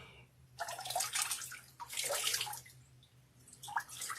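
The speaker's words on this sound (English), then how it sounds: "I am now doing a cold rinse" Cold tap water runs in bursts for a face rinse in a bathroom, splashing and gurgling in three surges with short pauses between, fairly close and moderately loud, with no talking.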